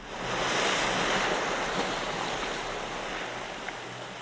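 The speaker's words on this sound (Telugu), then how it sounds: "బ్రిడ్జి కింద ఉండే నీరు సముద్రంలోని అలల్లా ఉప్పొంగుతుంది." Heavy, steady rush of surging water waves, loud and continuous with a windy roar and no voices.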